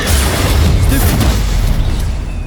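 A Stupefy spell hits during combat in Hogwarts Legacy, with a loud, dense booming impact and rumbling battle noise that fills the whole short moment.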